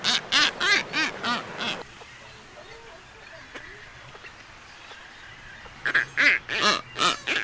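Loud squawking calls from nesting boobies nearby come in bursts at the start and end, with a quieter windy gap between them; no one speaks.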